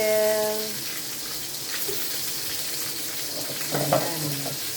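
Soft sizzle of oil heating in a pan for frying fish while cooking escabeche, a quiet crackling hiss with a faint tonal ring at the start and a few small clinks and stirs.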